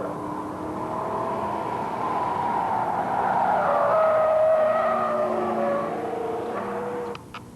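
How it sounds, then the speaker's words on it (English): A yellow 1998 Ford SVT Cobra is driven hard on a track, its engine roaring while the tires squeal and skid loudly, swelling to a peak midway before fading. "This is not an actual drag race, but is one of our yellow Cobras on the track."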